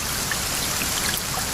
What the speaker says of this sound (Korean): 네, 스프링클러입니다.